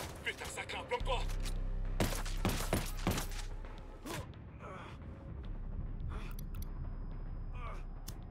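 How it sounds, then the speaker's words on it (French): Sharp gunshots crack in Ghost Recon Wildlands during a sniper attack, a tight cluster of loud reports in the middle followed by scattered fainter shots, with a voice talking over the action. "En train de se faire sniper"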